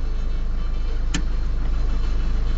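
A car's handbrake gives one short, sharp ratchet click as a learner driver stops. The engine keeps idling steadily underneath.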